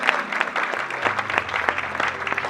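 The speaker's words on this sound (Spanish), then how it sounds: "Denle ese aplauso al Rey si lo siente en su corazón" A church congregation claps for the King during a Spanish-language sermon, with brief bursts of applause and some rhythmic clapping, fairly close and lively.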